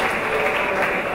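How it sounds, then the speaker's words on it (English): A fight crowd cheers for Korean Brazilian jiu-jitsu fighter Sang Kuk Kim during his introduction at a PRO FC 8 mixed martial arts event. The roar is dense and steady, loud and sustained throughout. "Crowd's about to go wild, folks."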